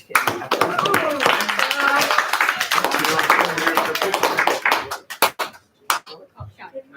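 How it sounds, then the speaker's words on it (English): An audience gives a round of applause, a dense close patter of many hands clapping for about five seconds, then trailing off into a few scattered claps, with a voice speaking near the end. "Give them a round of applause then."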